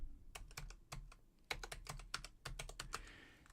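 Typing on a computer keyboard: a quiet, close run of distinct key clicks in short irregular bursts, alone with no talk.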